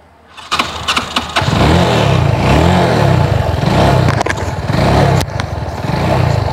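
A second-hand motorcycle starts up close by with a few sharp clicks and catches, then idles and revs in a loud, steady, throbbing run with a brief dip near the end.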